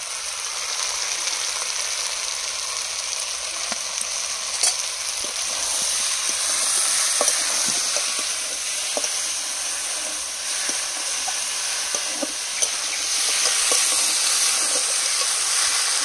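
Malabar spinach chorchori sizzling and frying in a pan while being stirred, a steady close hiss with small crackles and occasional scraping knocks throughout, no voices.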